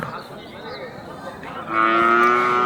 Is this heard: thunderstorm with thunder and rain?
no